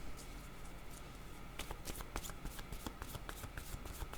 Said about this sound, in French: Ok, je vais demander une carte pour ces trois-là.